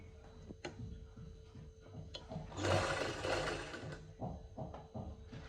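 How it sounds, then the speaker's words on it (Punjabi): A sewing machine runs a short stitching burst along the edge of a lined kameez seam, a quiet close whir amid soft ticking and handling clicks, with no talk. "ਇੱਥੇ ਜਾ ਕੇ ਬਿਲਕੁਲ ਕਿਨਾਰੇ ਤੋਂ ਆਪਾਂ ਸਲਾਈ ਲਾ ਦੇਣੀ ਹੈਗੀ"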